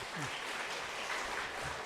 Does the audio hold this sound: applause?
yes